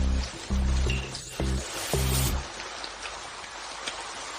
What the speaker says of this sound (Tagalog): Bakit biglang umulan?